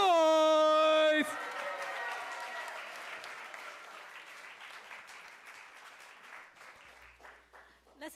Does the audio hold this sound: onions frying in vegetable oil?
no